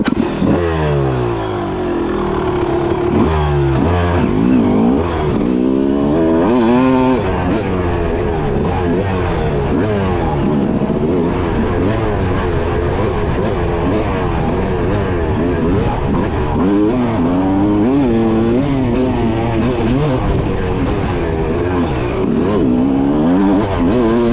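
A two-stroke dirt bike fitted with a Lectron Pro carburetor riding along a ridge, its engine loud and close, continuously revving up and down in sweeping pitch changes.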